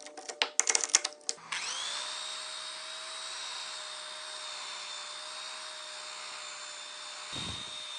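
A power tool spins up with a steady, high whine as a nylon brush on the Restorer works over reclaimed wood. Brief clatter comes first, then a constant motor drone that cuts off near the end.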